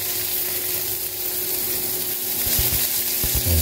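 Chopped onion sizzles steadily in hot olive oil in a pan, a loud, even frying hiss with a few stirring clatters and knocks toward the end.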